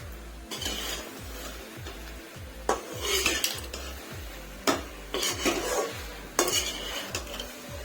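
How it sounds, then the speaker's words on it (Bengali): A metal spatula stirs fried soybeans into a chilli soybean mixture in a pan, with repeated scraping strokes at a steady rhythm over a low sizzle. "এরপরে আমি ভেজে রাখা সয়াবিনটাকে দিয়ে দেব।"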